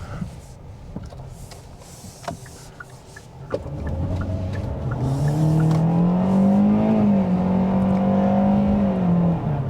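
A 2023 Kia Seltos 2WD with a CVT accelerates from inside the cabin, its engine drone rising in distinct stepped pitch changes that mimic gear shifts, after some light clicks and rustle at low speed.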